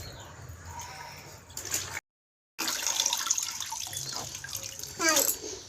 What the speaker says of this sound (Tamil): பாப்பா தண்ணியில் கழுவுறீங்களா சட்டையை